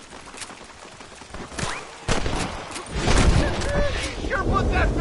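Rapid gunfire rings out in a Red Dead Redemption shootout with rustlers, sharp cracks building into a dense, loud volley of shots and echoing blasts, with people talking amid the fighting.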